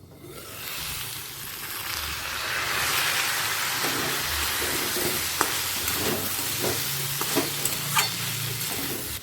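White potatoes with black cumin (kalo jeere) crackle and hiss in a pan as they are turned over and stirred, a steady loud frying sizzle with a few clear scraping knocks from the spatula partway through.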